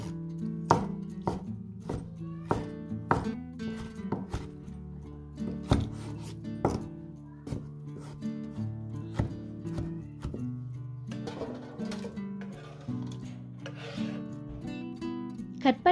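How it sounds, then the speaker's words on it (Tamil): A knife chops tomatoes into small pieces on a board, giving a rapid series of sharp, close taps in an uneven rhythm, each cut crisp and distinct, with faint wet squelches between strokes. "மிச்சம் பெரிய பீஸாக கட் பண்ணாமல் கொஞ்சம் நல்லா குட்டி குட்டி பீஸாகவே கட் பண்ணிவிடுங்க."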